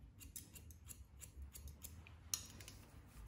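Hairdressing scissors snip through hair while cutting a bob, a steady run of quick, close, crisp snips with one sharper cut, with no talking.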